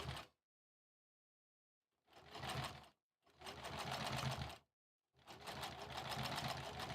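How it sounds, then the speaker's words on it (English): A sewing machine stitches quilt rows in three separate bursts with silent pauses between them. Each burst is a close, rapid mechanical whir, and the later ones run longer. "Just trying to sew straight."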